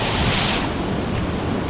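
Ocean waves wash against coastal rocks in a loud, steady roar of surf, close and continuous, mixed with wind buffeting the microphone.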